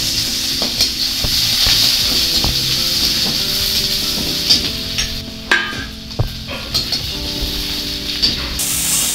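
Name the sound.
garlic frying in mustard oil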